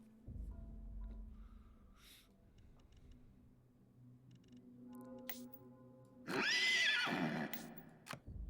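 A horse neighs and whinnies in the video game Sultan's Game: a loud, rising-and-falling whinny near the end, with softer game tones and small effects before it and no talk.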